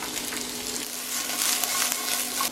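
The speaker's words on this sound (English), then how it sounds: "Put some oil into the frying pan. Let's put in our garlic, our onions, then our carrots next." Garlic, onions and carrots frying in oil in a frying pan, a close, bright, steady sizzle with a faint hum beneath, growing slightly louder toward the end.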